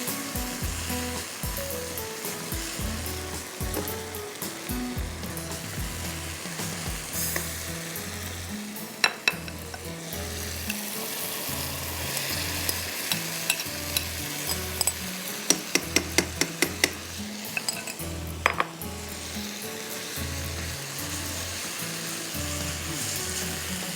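Mutton pieces fry in a pan for balti mutton with potatoes, a continuous crackling sizzle throughout with scattered sharp clicks midway, over a repeating low rhythmic beat of background music.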